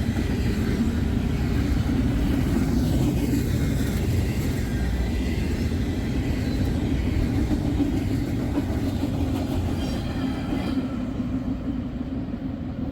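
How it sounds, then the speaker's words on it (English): Long Norfolk Southern freight train led by locomotive 6963 rolling past, a steady loud rumble of wheels and cars that holds for the whole stretch with no horn, fading slightly near the end. "Pretty long train to boot."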